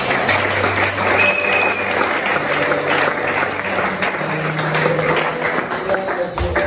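A church congregation applauds together to acclaim the Lord, a dense, loud and continuous wash of many hands clapping that runs without a break.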